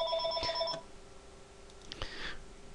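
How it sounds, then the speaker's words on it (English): Phone ringing, with electronic ring tones in two short bursts separated by a pause, moderately loud indoors. "I guess you heard my phone ring"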